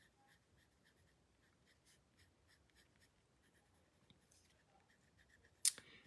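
A Derwent Inktense pencil scratches softly across paper in faint, rapid back-and-forth colouring strokes, close up and quiet, ending with a brief sharper noise.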